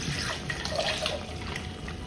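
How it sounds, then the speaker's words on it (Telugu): Water poured into a pot of traditional South Indian masala sambar with ground paste, a continuous splashing, gurgling pour close by, steady and unbroken for a couple of seconds. "కొంచెం వాటర్ వేసేసుకుందాం."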